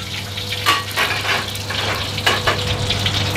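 Chopped onion and ginger hit very hot oil in a pan, a loud steady sizzle with brief crackling bursts and light stirring scrapes, close up, no talk.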